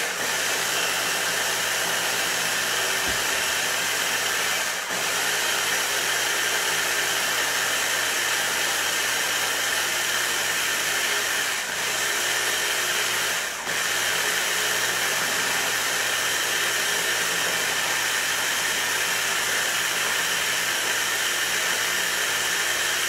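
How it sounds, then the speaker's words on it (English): A kitchen blender runs continuously, loud and steady, pureeing plain tofu for a vegan chocolate mousse, its motor whine constant with a few brief dips in load throughout. "we're gonna blend the tofu just as it is"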